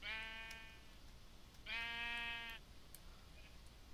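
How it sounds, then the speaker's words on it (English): Sheep in Minecraft bleating twice, two clear harmonic baas about a second apart, close and distinct over a faint background with no talk. "Lots of sheep."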